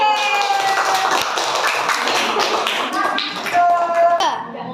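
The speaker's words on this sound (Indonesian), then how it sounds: "Tepuk tangan untuk kelompok C." Pupils in an elementary school classroom clap for a group after its presentation, a busy run of sharp, closely spaced hand claps, with children's voices and tonal chatter mixed in over the clapping.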